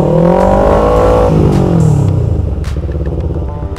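Big-engine motorcycle revving at night at a busy town square, with a loud close engine note that sweeps up and down in pitch before easing back toward a rough, pulsing idle.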